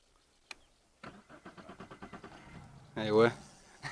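Outboard boat motor cranking to start on a river while trolling for catfish, a run of rapid pulsing cranks followed by a brief louder burst as it catches, fairly close with light talk nearby.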